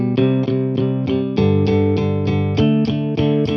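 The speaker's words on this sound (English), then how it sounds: "So, I can load a series of power chords on the low sequence." Sequenced distorted guitar power chords from the Audiofier Riffendium X sample instrument chug in a steady rhythmic pattern, loud and punchy, with a brief gap before each new chord.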